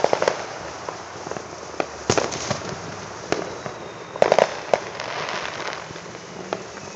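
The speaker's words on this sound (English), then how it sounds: "listen to everybody lighting off their fireworks." Fourth of July fireworks and firecrackers pop and crack at varying distances, scattered irregular bursts with occasional clusters over a steady outdoor background hiss.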